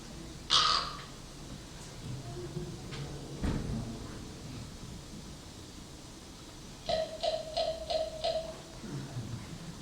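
Wild crows giving territorial calls: a harsh caw near the start, then a quick run of five or six repeated caws, moderately distant over outdoor background noise.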